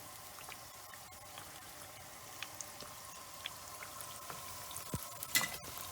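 Crumbed zucchini and eggplant slices frying in a pan of hot oil give a quiet, steady sizzle with scattered small pops and crackles, and a few sharper spatters near the end.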